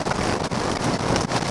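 Synthesized rain from a Music Thing Modular Workshop System: a dense, steady hiss of fine crackling patter, even and continuous throughout with no gaps, standing alone without any voice.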